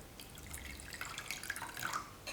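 Half a bowl of water poured into a soy sauce, vinegar, oyster sauce and starch mixture, a soft, close trickle and splash of liquid lasting a couple of seconds, with no talking.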